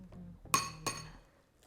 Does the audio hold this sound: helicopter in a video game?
no